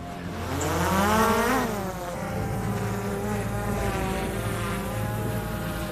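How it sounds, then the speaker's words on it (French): Drone hovering over a ruined funerary temple partly covered in sand at an Egyptian pyramid site, a steady buzzing whine whose pitch sweeps up and down as it manoeuvres, loud and close. "Cédric Gobeil travaille avec un pilote de drone, Ahmed Hassan Ali."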